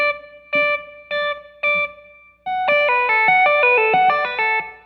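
A clean electric guitar plays a few separate plucked notes, then a smooth flowing run of connected legato notes, close and clear.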